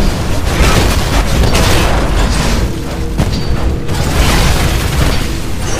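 Mortar titan barrage in the Titanfall video game, loud continuous booming explosions and rumbling blasts rolling one into another with mechanical clatter throughout.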